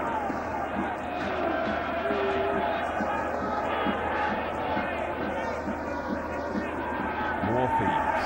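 Large stadium crowd of over 20,000 at the 1996 Heineken Cup rugby final between Toulouse and Cardiff, a steady, dense roar of distant voices filling the background beneath commentary throughout.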